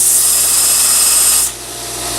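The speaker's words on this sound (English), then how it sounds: "I'm cutting my threaded rod into studs." A power tool cuts threaded rod into studs with a loud, steady high-pitched whine and grinding that stops abruptly partway, leaving a quieter low hum of the motor winding down.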